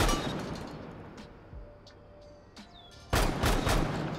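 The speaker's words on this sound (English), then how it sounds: "Most people are going to be shooting this shotgun like this." Shotgun fire in Rainbow Six Siege: a faint earlier report and then a loud, close blast with a quick follow-up shot near the end, over quiet game ambience, no talk.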